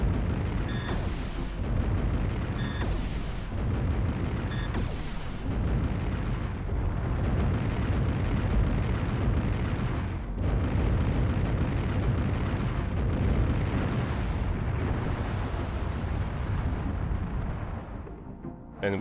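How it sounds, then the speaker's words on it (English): Explosions in the video game Panzer Dragoon Saga: a sustained, loud rumbling roar broken by sharp blasts, three close together early on and a few more later, fading near the end. "And we don't look at explosions, like the badasses"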